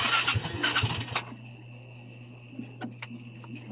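A Yamaha Mio Soul i 125 motorcycle, fitted with a new regulator and stator, cranks and sputters briefly in a burst at the start, then falls to a faint steady hum with a few small clicks.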